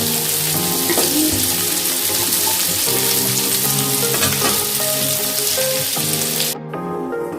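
Vegetables for navratan pulao frying in a pan, a loud steady sizzle that runs throughout with faint clinks and stirring, dropping slightly toward the end.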